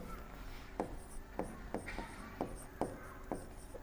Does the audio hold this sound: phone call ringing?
no